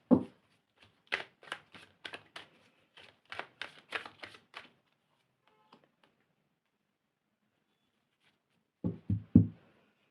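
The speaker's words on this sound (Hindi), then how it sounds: "मैं कार्ड्स निकाल लूँ पहले," Tarot cards are shuffled and drawn in a quiet room, producing bursts of soft, rapid riffling and tapping with pauses between them.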